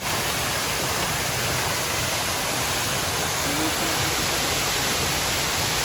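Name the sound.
waterfall rushing water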